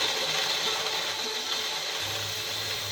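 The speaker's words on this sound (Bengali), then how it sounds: "এদিকে ব্লেন্ডারে আমি মশলাটার ব্লেন্ড করে নেব।" A blender grinds a spice mix for chicken tikka masala with a steady, loud, continuous whirring roar and no voices.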